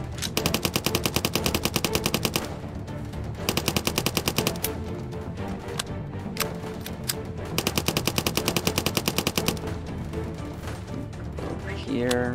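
MP40 submachine gun fire in the World War II shooter Soviet Soldier, heard as rapid rattling automatic bursts in several strings with short pauses between them, while someone talks over the shooting.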